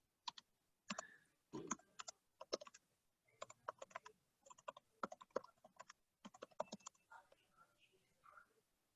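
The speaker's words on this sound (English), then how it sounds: "I'm just typing a message" Fingers typing a chat message on a computer keyboard, with quick bursts of light key clicks separated by short pauses, faint and close, with soft murmured speech in places.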